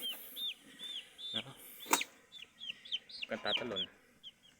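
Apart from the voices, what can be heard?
three-day-old broiler chicken chick peeping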